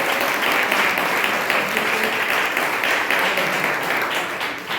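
A church congregation at Sunday worship breaks into loud, sustained clapping, a dense wash of many hands filling the room that stays steady and then eases off slightly at the close.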